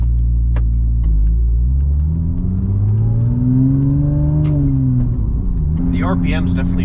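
A Porsche 996 Turbo's engine revs while driving, a loud close cabin rumble with rising and falling pitch between shifts, ending in a burst of higher whirring.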